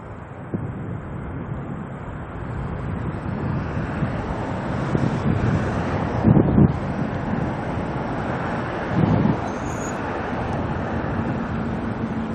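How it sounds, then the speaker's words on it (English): Strong gusting wind at Auckland Airport buffets the microphone, producing a dense, rumbling roar with a few louder thumps and swells throughout and no other clear sounds. "Sadly, this wind is doing us no favours, is it?"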